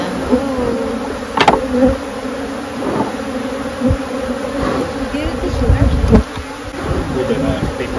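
A dense, steady buzz of many honey bees close by as they are smoked at a bee sanctuary, with a few soft knocks and bumps rising above the drone.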